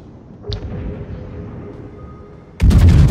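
Heavy naval gunfire from the battleship Bismarck in World of Warships: a brief thump early on, then a loud, booming salvo bursts in near the end over a low rumbling background.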